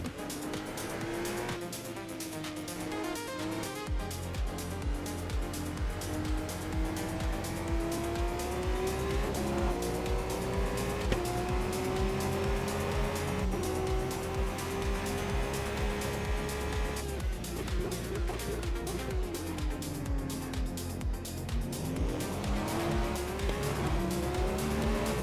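A Cadillac race car in a racing game at Sebring roars continuously, its engine note climbing and dropping through gear changes, with tire squeal and loud, steady engine drone throughout.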